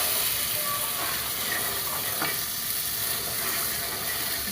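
Bean-seed curry sizzles and fries steadily in a frying pan with oil, onion and spices, a constant broadband hiss with faint scrapes of stirring throughout.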